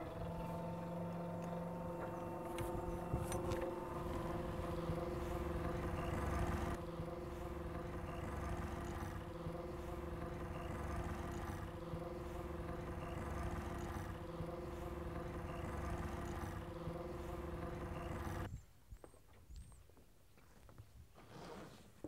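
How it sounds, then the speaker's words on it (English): An electric winch on a sailboat hoists a mainsail with a steady, close mechanical whine and hum that holds for about eighteen seconds, then cuts off, leaving quieter background noise. "we'll start hitting the electric winch and powering the sail up"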